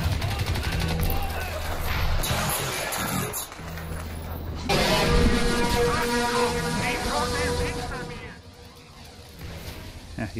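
A rocket launcher fires during a Crysis 2 multiplayer match, set among sustained bursts of gunfire and loud game combat noise, with someone talking over much of it.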